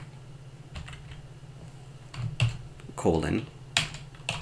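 Sparse clusters of computer keyboard keystrokes tap out code, fairly quiet and close, with a voice talking between the taps.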